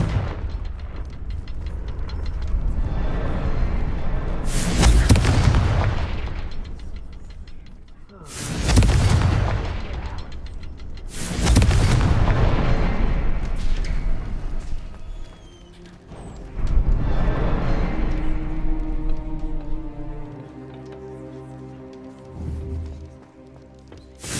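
Confringo fire-blast spells exploding in Hogwarts Legacy gameplay, with several heavy booming blasts and rumbling impacts, loud and close, amid game sound and music.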